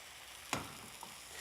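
An egg omelet in a frying pan gives a soft, steady sizzle, with one sharp tap or scrape of a utensil partway through and a tiny tick after.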